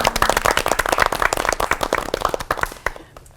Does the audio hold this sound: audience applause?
yes